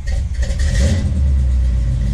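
The engine of a 1977 Oldsmobile Cutlass Supreme runs roughly as if about to stall, a loud, close, steady rumble filling the short stretch without any voices.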